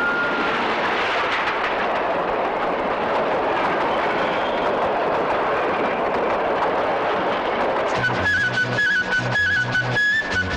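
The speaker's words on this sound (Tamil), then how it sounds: "ரயில் வருது வேடிக்கை பார்த்துட்டு போ" A train rumbles past in a broad, steady roar for about eight seconds, loud and close, before music with a strong beat cuts in over it.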